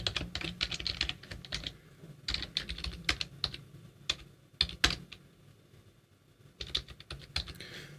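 Close, crisp clatter of a computer keyboard as someone writes code, with keystrokes arriving in quick irregular bursts separated by short pauses. No speech.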